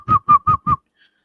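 Four short, breathy whistle attempts in quick, even succession, each a wavering hollow tone close to the microphone, then silence.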